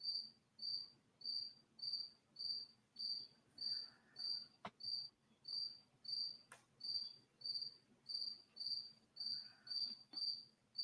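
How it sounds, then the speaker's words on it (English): A cricket chirps in steady, evenly spaced pulses, about one and a half per second, faint and distant against a quiet background with a couple of brief clicks. "I think that cricket was really helping"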